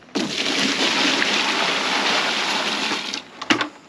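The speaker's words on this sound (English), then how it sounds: "we are going to put two buckets of water into the bath before we add any sand" Buckets of water pouring into a mixing bath for sand and cement render, a steady rushing splash for about three seconds, then a few short sloshes and knocks as the flow ends, no talking.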